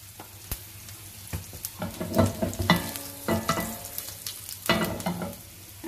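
Kalonji seeds and chilies frying in hot oil, a close crackling sizzle broken by irregular stirring scrapes and pops that swell and fade across the clip, with no voices.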